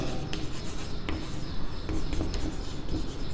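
A pen scratching across paper, writing out a maths solution: close, soft, continuous rubbing strokes with small quick taps, steady and alone without talk.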